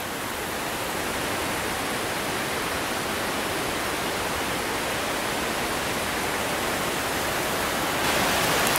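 A creek flows beside a woodland clearing campsite, its water producing a constant, loud, broadband rushing wash with no breaks.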